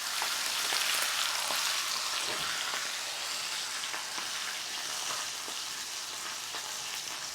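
Steak sizzling steadily in a hot pan during basting, a continuous bright fry with small crackles and pops, fairly close and without talk.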